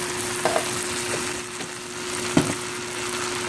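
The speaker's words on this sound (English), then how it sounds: "That's a rice fry." Rice and bacon pork frying in a pan, a steady close sizzle with a few soft clicks of stirring, no one talking.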